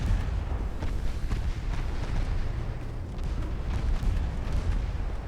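Heavy naval gunfire in a World War II warship video game, aimed at the Japanese cruiser Kitakami, heard as a dense continuous rumble of booming artillery salvos with repeated deep blasts throughout.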